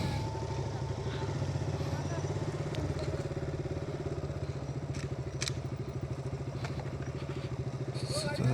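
A motorcycle being ridden near Dabhol in Dapoli gives a steady, loud engine drone with rhythmic exhaust pulsing and wind rumble, unbroken from start to finish.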